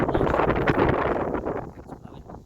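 Wind buffets a microphone outdoors in a garden, a loud, steady rumbling roar that eases slightly toward the end, with no one talking.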